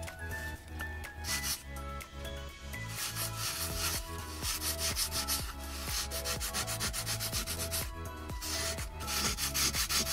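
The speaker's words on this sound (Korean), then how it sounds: "표면이 살짝 울퉁불퉁하니 살살 갈아서 둥글게 만들어 주겠습니다" A wooden ladybug-shaped cutting board is sanded smooth by hand, with steady, rhythmic rasping strokes close up that continue throughout, alongside a constant tonal background.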